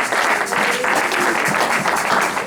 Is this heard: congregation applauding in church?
yes